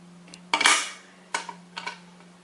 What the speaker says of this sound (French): à l'aide d'un cutter, on va couper le surplus